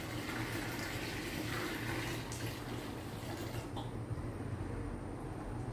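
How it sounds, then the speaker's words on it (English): Liquid solution is poured steadily into a bucket during garden transplanting, a continuous close splashing and rushing pour that holds throughout before easing slightly near the end. "Pouring it in there will also help to mix the solution."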